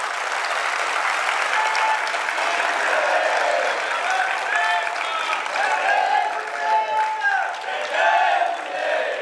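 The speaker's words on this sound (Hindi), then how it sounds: "एक बार आप सब मिल के ताली बजा करके बताइए" An audience claps together at a gathering with a Jain monk in Chhatrapati Nagar, Indore, keeping up steady applause for the whole stretch with crowd murmur mixed in.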